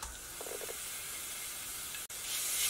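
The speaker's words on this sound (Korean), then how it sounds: "여기 마늘을 잠깐 볶아줄 텐데요." Garlic sautés in a spoonful of oil over low heat, giving a steady, soft sizzling hiss that runs continuously with a brief dropout near the end.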